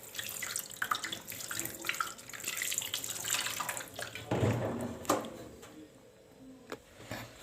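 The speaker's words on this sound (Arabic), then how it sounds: "انا كده غسلت السمك زي ما انتم متعودين معايا" Tap water runs and splashes into a sink while fish is washed by hand, a continuous hiss with bursts of splashing and clatter, quieter toward the end.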